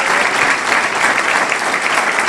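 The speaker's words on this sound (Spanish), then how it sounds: "Demos un fuerte aplauso al Eterno por la vida de este hombre." Loud, sustained applause from an audience at a rabbi's religious talk in Colombia, even and dense clapping from start to finish.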